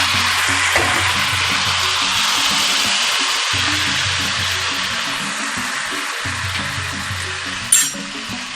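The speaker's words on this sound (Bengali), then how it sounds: "এবার আমি সিদ্ধ করা সবজিটা দিয়ে দিলাম" Boiled vegetables fry in a wok of hot mustard oil with spices, making a continuous close hiss and sizzle that slowly settles, with one sharp utensil clink near the end.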